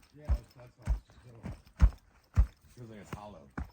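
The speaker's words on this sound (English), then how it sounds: "It's weird if you stomp on this." Feet stomping on hollow-sounding ground outdoors in California, a series of about six dull, thudding impacts in an uneven rhythm, close and fairly loud, with people talking in between.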